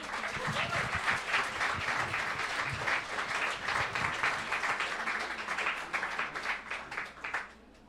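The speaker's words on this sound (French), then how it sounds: "Vous pouvez l'applaudir." Sustained audience applause at the Fête Quantique, a science talk event, dense steady clapping filling the room for about seven seconds before cutting off sharply near the end.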